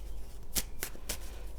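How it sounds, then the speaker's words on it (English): Three quick, quiet riffles of tarot cards being shuffled, crisp and close, spaced about a quarter second apart. "I feel like I got to shuffle here."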